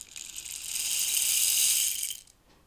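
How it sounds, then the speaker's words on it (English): A miniature rain stick is tilted, its beads pouring down inside in one steady, close hiss of rattling patter that builds and fades out after about two seconds, with no talking. "This is the rain stick."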